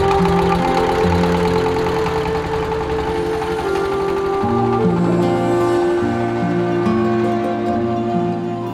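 A trawler boat's diesel engine on Mohamaya Lake chugs steadily nearby in a loud, even knocking rhythm, with strong low harmonics running throughout and no talk.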